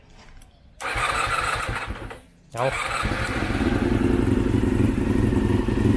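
A Honda VFR400 or CBR400 motorcycle engine cranks, catches briefly, dips, then fires up and settles into a steady throbbing idle, loud and close, with a brief spoken word.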